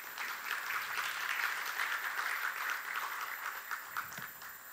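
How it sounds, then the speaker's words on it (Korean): Audience applause at a 2020 academic seminar on martial arts education, heard as a faint, steady wash of many hands clapping at a distance in a large room. "큰 박수 부탁드리겠습니다"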